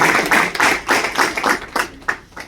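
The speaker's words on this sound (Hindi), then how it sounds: "आप ताली बजा सकते हैं।" An audience at a Hindi book launch claps together in a run of roughly eight firm, evenly spaced bursts, close and fairly loud, with no talk over it.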